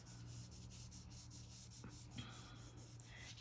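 Crayon rubbed steadily over paper laid on a dark leaf, scraping along the jagged edges in a 2nd grade leaf rubbing; a soft continuous rasping friction close by, with a couple of brief taps, and no talking.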